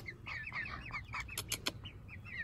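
Meat chickens in a mobile chicken tractor give soft, quick chirping calls with a few sharper bursts, close by and fairly quiet, with no talking.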